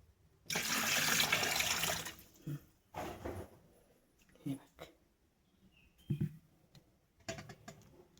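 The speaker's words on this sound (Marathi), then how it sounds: "थोडंसं पाणी टाकू आपण" Water pours into a cooking pot in a short splashing burst, then a few faint clinks and small splashes follow in a quiet room.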